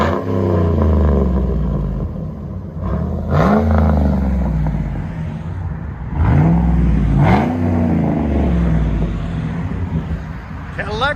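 A Cadillac Escalade with a 6.2L V8 and aftermarket exhaust revs repeatedly, several deep throaty surges rising and falling close by, with people talking around it.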